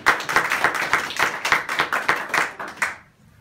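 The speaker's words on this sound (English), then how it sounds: "a round of applause, please, for Akwasi." A small audience claps for football striker Akwasi Asante at a live player interview, a brisk, fairly close burst of hand claps lasting about three seconds before stopping abruptly.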